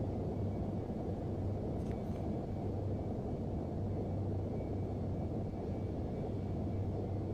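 Plane engine in a flight simulator video game, a faint, steady low drone with a constant hum, running evenly and alone without any talking.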